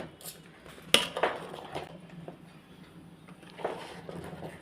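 Wheat chik, a thick cooking paste, is stirred in a pot with a spoon, giving soft scraping and a few sharp metallic clinks against the pot's side, close and fairly quiet.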